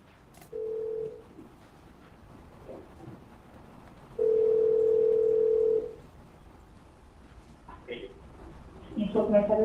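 A recorded telephone call played back in a courtroom, carrying a short steady dial tone, then a longer one of about a second and a half, with faint background noise and a voice starting near the end.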